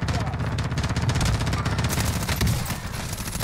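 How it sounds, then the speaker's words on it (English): Rapid bursts of automatic gunfire in Call of Duty: Warzone crackle continuously, loud and dense, with a voice briefly heard over the shooting. "Oh, someone shooting."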